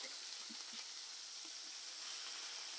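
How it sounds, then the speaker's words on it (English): Burger patties sizzle in a hot salted skillet, a steady, fairly faint broadband hiss running unbroken throughout with a few soft pops near the start. "Can you hear that nice sizzle going?"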